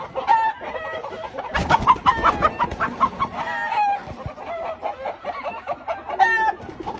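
Chickens at midday cluck busily around a coop while a rooster crows, a lively close-up mix of overlapping calls and cackles with one louder burst in the middle.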